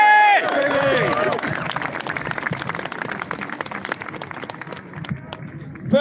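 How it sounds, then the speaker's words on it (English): Crowd clapping and cheering at an outdoor protest rally in Braintree, starting with a shout and then settling into scattered, uneven applause with some background murmur. "Please give him a massive round of applause."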